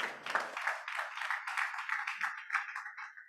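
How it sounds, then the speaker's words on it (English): Steady applause from an audience at a business meeting in Lagos, a continuous patter of many hands clapping at moderate distance for a few seconds. "Please, a round of applause for our sponsor."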